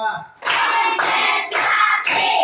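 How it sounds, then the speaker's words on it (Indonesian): A class of students clap in rhythm, four loud, sharp bursts of unison clapping separated by brief pauses, close and strong. "Tepuk 1, tepuk 2, tepuk 3, tepuk 4"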